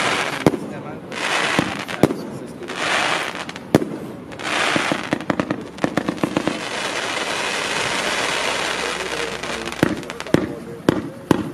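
A 65-shot fireworks cake barrage mixing 27 mm and 20 mm shells fires outdoors, sharp bangs and crackling bursts popping in irregular rapid succession, with scattered voices of onlookers under the volleys.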